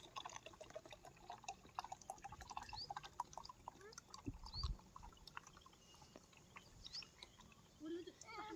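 An oil mixture diluted in a bucket of water is poured around teak trees on a farm, giving faint trickles and drips with scattered small clicks in a quiet outdoor setting.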